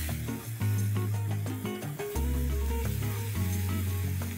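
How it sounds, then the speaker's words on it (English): Minced mutton frying in a pan over high flame, a quiet sizzle under low tonal hum, with faint stirring scrapes and no speech. "Give this a good stir."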